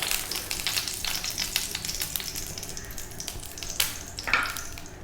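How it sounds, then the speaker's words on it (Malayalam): Ghee sizzles steadily in a hot pan, a continuous close crackle with a few brief bursts, heard alone without voices. "ചൂടായി കിടക്കുന്ന പാനല്ലേ, 1 ടീസ്പൂൺ നെയ്യ് ഒഴിച്ചിട്ടുണ്ട്"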